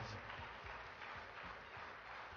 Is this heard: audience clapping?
yes